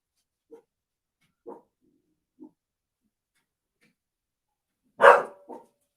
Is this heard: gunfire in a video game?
no